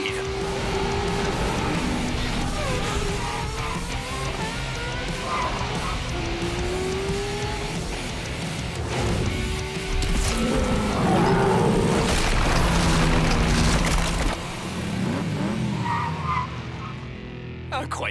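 A car driven sportily with tyres squealing and skidding repeatedly, engine revving loud and close, while people talk over the noise.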